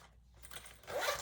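Zipper on the pocket of a leather waist pack, a faint quick rasp building into a louder zip toward the end, close and alone.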